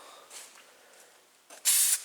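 Gloss finish product sprays onto a 1970 AMC Gremlin in short faint hisses, then one louder, sharper burst of aerosol spray near the end, close by.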